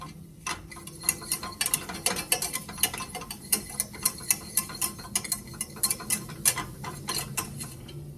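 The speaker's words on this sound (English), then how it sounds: "just whisk it around until it gets thick and bubbly" Metal whisk rapidly clinking against the sides of a pot while flour cooks into a thickening base for cheeseburger soup, a quick irregular run of close, bright taps with no talking.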